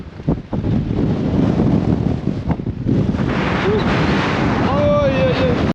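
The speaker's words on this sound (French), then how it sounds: "Il y a énormément de vent" Strong wind on a hilltop near Esperance, Australia buffets the microphone in a continuous roar, with a voice talking underneath and brief higher tones near the end.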